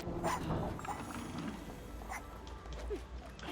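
A dog barks and whimpers inside the co-op video game It Takes Two, short yips scattered through a busy mix of game sound and background noise, with no talk.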